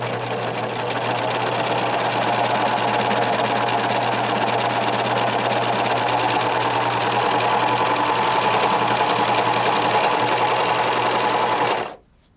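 An electric sewing machine runs a seam-finishing stitch that mimics a serger, a loud, steady, fast mechanical whirr and chatter lasting about twelve seconds before stopping abruptly.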